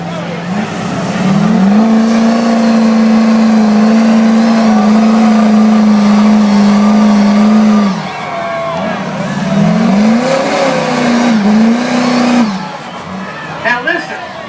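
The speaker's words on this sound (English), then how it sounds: "Big, beautiful truck. And hooking it up against Big Scott Jones" Huge truck engine roars during a truck pull in Orlando, a very loud sustained drone held for several seconds, dropping off, then surging again in a second shorter burst before fading, with crowd and announcer noise around it.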